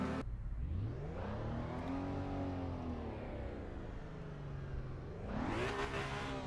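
A synthetic-sounding car engine in the racing game Assetto Corsa EVO revs up, holds a steady drone, dips, then climbs sharply again, its tone rising and falling smoothly with no voices present.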